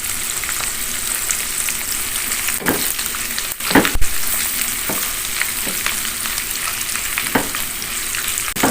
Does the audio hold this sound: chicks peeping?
no